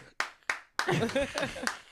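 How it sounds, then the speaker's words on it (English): A few sharp, separate claps open on a morning talk show, followed by talking and laughter with more scattered claps mixed in. "Let's clap for your honesty."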